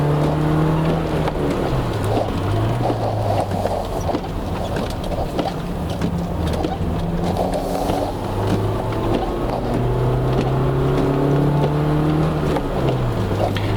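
A BMW 318ti on a drive, its engine droning steadily up close and rising and falling in pitch as it revs through gear changes, with no talk over it.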